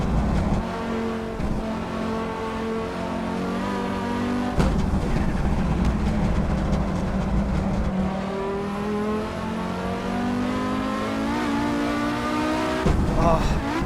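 Audi Sport Quattro rally car in the Assetto Corsa racing game: a steady, loud engine drone that rises and falls in pitch through revs and gear changes, with a brief cut near the end.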